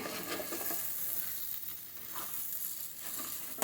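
Raw banana slices for a South Indian fry are stirred in a pan. Steady sizzling frying sounds run throughout, with soft scraping stirs on top, close and fairly quiet.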